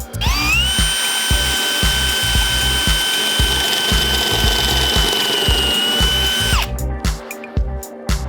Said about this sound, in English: I'll just use this Bosch bit here just to sort of taper this up nicely.